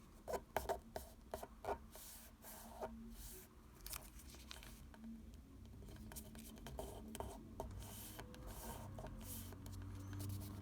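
Paper being folded into an origami dragon: quiet, close crinkling, creasing and rubbing, with a cluster of sharp crackles early and softer handling afterward, very faint overall.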